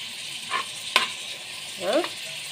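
Two large onions sliced into rings fry in plenty of oil for Egyptian koshari, a steady broadband sizzle with a few louder clinks of stirring against the pot, close up and with no talking.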